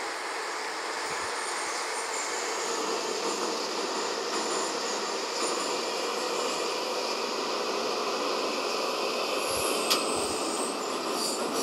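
A type 81-717 metro train running through a tunnel on the Minsk metro, giving a loud, continuous rumble and rushing roar with faint wheel squeal, a few low thumps and a brief high screech near the end.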